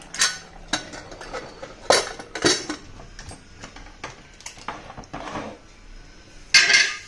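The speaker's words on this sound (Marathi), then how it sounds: "तर आपल्याला आता गॅस स्लो करून आपल्याला झाकण लावायचं आहे" Metal clanks and clinks of a pressure cooker lid being fitted over chicken pulao on a low gas flame, several sharp knocks spaced irregularly, close and fairly loud with no talking.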